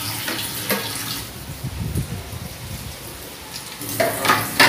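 Water runs and splashes at a sink with clinks and rattles of dishes being handled nearby, the flow surging louder near the end.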